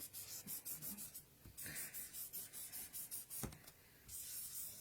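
A pen scratches across paper in short repeated strokes, quiet and close, with brief pauses between strokes.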